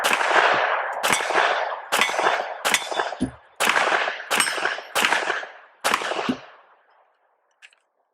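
Seven sharp gunshots from a Springfield Armory Echelon 4.0C 9mm handgun with a compensated barrel and slide, fired at an even pace about a second apart, loud and close, each followed by a ringing echo that dies away at the end.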